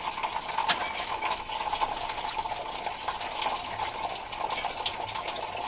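Water pours steadily from a tap into a vessel as amaranth greens (dantu soppu) are rinsed of soil. The rushing, splashing stream stays continuous and fairly close, with no talk.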